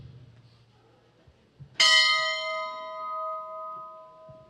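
A single ceremonial bell struck once at a memorial ceremony for fallen Navy servicemen, ringing out loud and clear with a bright metallic clang that sustains and slowly decays over several seconds after a quiet lead-in.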